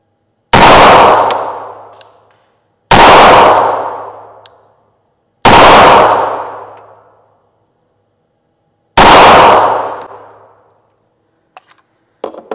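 Four loud, sharp gunshots from a Bersa Thunder .380 pistol, spaced a couple of seconds apart, each ringing out with a decaying echo, then a few faint clicks of handling at the end.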